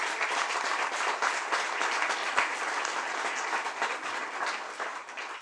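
A crowd at a regional park grand opening claps for the project staff, a broad, even stream of many hands applauding together, fairly close and unbroken by speech.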